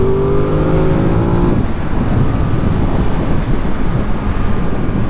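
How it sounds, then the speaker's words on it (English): A 2022 Ducati Monster Plus with its Testastretta engine accelerates hard, a loud, close, continuous roar whose tone climbs at first and then settles into a dense, sustained drone. "The thing about this motor, the Testa Strada, is that it pulls."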